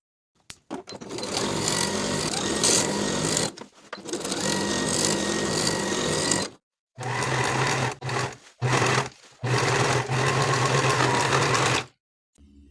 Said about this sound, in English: Then we can sew with a 3/8 inch seam allowance and finish the raw edges.